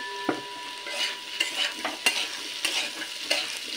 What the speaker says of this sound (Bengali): হলুদের গন্ধ যাওয়া পর্যন্ত আর একটু ভেজে নেব, 1 মিনিট মতন একটু নেড়ে নেব